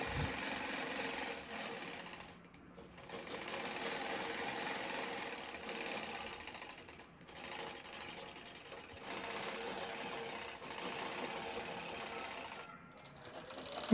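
A sewing machine stitches piping onto a cloth zipper bag made from old clothes, running in long whirring bursts broken by three short pauses.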